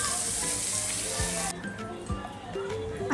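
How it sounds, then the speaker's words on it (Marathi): Bitter gourd shallow frying in oil in a fry pan, a steady sizzle that cuts off midway and leaves quieter kitchen clatter, with some talk. "आता आपली कारली छानपैकी शॅलो फ्राय झाली."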